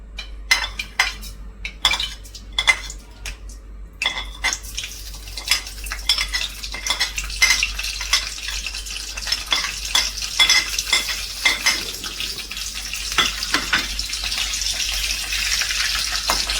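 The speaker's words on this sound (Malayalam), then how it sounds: "കടുക് പൊട്ടിക്കാം നമുക്ക് ആദ്യം." Mustard seeds splutter and fry in hot bran oil, a steady close crackling sizzle that builds and stays dense, with a few metallic utensil clinks and stirring scrapes near the start and no speech.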